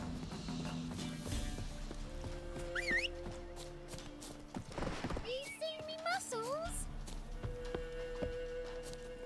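Geralt's horse Roach in the video game The Witcher 3, clip-clopping hooves at a steady running rhythm under a voice talking, along with game music and ambient effects.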